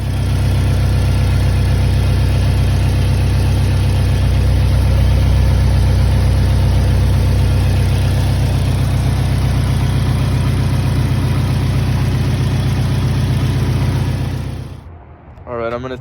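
A stock Nissan 240SX engine idles steadily and loudly at close range for about fifteen seconds, with a low, even rumble before it cuts off near the end.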